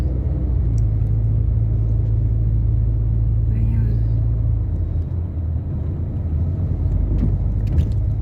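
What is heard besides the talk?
car driving, heard from inside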